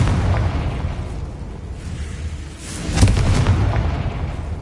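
A Confringo spell exploding in Hogwarts Legacy on PS5: a loud rumbling magical blast with a sharp burst around the middle, layered over continuous low game ambience, with no voices.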